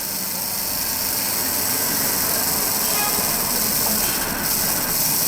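A loud, continuous mechanical rumble of a running electric motor in a Universum CTR 2386 under repair, steady and close, with a broad noisy hum and no breaks.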